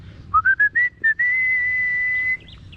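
A person whistles to call pigeons on a farm, five short rising chirps followed by one long, steady, clear whistle, close and loud in a quiet setting.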